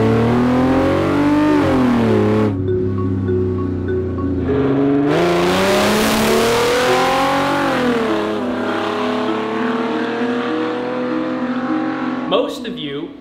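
A Pagani Zonda S600 suffering an engine failure revs loud and close, its raw open-header tone sweeping up and down in sustained pulls before a sharp blip near the end.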